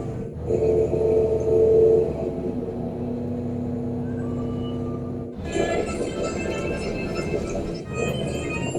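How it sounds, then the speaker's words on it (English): A continuous rumbling Swiss train ride with steady low rolling noise and a sharp shift in tone midway, loud and close throughout. "Now we're back on the train."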